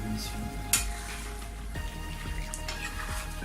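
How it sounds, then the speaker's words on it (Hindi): Lemon pepper chicken is stirred in a hot pan, giving a steady sizzle with scraping and a sharp clink of utensil against metal, close by and continuous. "अब इसको हम मिक्स करेंगे"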